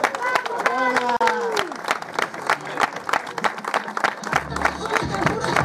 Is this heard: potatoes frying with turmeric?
no